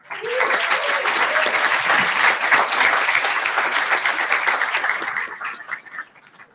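Students at an event clap together in a full, lively burst of applause that stays strong for several seconds before thinning out and fading near the end.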